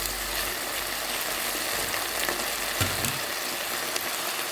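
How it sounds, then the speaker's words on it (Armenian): Peppers fry with soy sauce in a pan, giving a steady, close hiss and sizzle with a few faint clinks, and no one speaking. "թող մի քիչ սոյայի հետ տապակվի"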